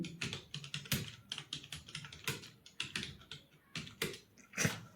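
Rapid typing on a computer keyboard during Hindi Mangal Unicode typing practice, a close, steady patter of key clicks with occasional louder, sharper strokes and no talk.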